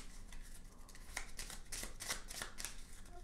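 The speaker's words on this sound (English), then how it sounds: "shuffling them up as well" Magic spell cards for the board game My Little Scythe are shuffled by hand in steady riffling bursts, close and fairly quiet, with no talking.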